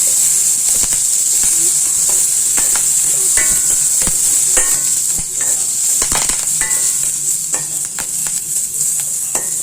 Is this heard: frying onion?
yes